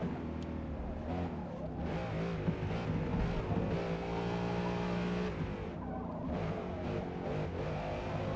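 A race car in Forza Motorsport with a continuous high engine whine rising and falling through gear changes, punctuated by brief tire chirps, fairly quiet overall.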